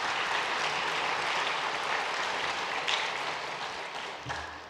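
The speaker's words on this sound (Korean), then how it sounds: "우리 큰 박수로 격려하겠습니다" Church congregation applauding during a Sunday worship service, a dense, steady wash of many hands clapping that holds throughout and tapers slightly near the end.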